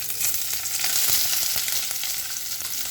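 Chopped onions hit hot oil in a pan that already holds browned red chilies, for a chatpata egg tarka, giving a loud, dense, continuous sizzle with faint crackles, close and steady throughout.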